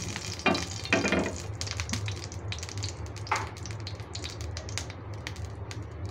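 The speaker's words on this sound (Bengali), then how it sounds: "এটার মধ্যে আমি এখন যেটা করবো সেটা হচ্ছে এগুলো আমি একটু ভাজবো।" Food fries in ghee in a large frying pan, a close, continuous sizzle broken by sharp scraping and clattering bursts of stirring.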